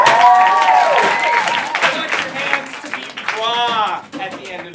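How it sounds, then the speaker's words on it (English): Audience applause and cheering for teams stepping up at a comedy improv show, loud at first then thinning, mixed with shouts and excited voices over the clapping. "Both teams get up here, give them a round of applause."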